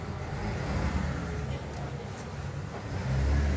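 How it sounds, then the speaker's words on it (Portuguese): A truck passing on a road near a beehive site, a steady low engine rumble and road noise that swells toward the end, fairly close, with no talk over it. "Só vou deixar passar o caminhão aqui."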